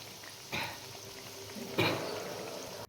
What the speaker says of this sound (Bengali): তেলে দেওয়ার পর পিঠেগুলোকে খুব আস্তে আস্তে নেড়েচেড়ে ভেজে নিতে হবে।